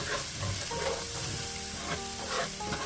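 Spice powders of turmeric, coriander powder, garam masala and Kashmiri red chilli powder frying and being stirred in hot oil for a methi paneer curry, a steady close sizzle with occasional scraping stirs.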